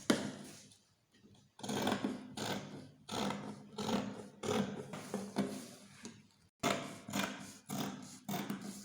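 Scissors cutting through cotton fabric for a homemade face mask, repeated crisp snipping strokes in irregular bursts with brief pauses, close and moderately loud, no talking.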